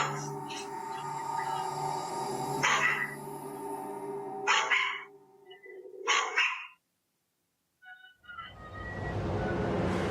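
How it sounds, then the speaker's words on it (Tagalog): A dog barks indoors, caught on a home security camera, in a string of loud, close barks that stop for a stretch of near silence before a steady background noise comes in. "Nang magsimulang tumahol ang aso sa kung anong nakikita nito"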